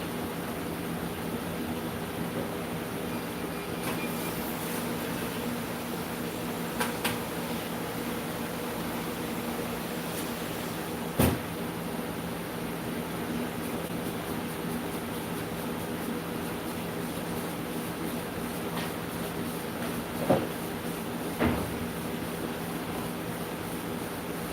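Laser engraving machine running as a low, steady hum and hiss with faint tonal whine, broken by a few soft isolated clicks.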